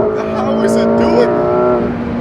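A 2020 McLaren 720S accelerates hard at around 80, its engine a steady, loud, tonal drone heard from inside the car while people talk over it.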